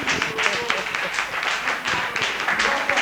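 Audience applause in a broadcast studio in Lausanne, Switzerland: a dense, steady run of claps with some thumps and a few voices mixed underneath.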